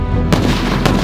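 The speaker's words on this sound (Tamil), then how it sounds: "அடுத்து நம்ம வெடிக்க போறது தி லயன் கிங்." A Lion King brand firecracker from Sivakasi bursts in one sharp, loud blast that fills the short stretch after a brief quiet start, with a second crack close behind.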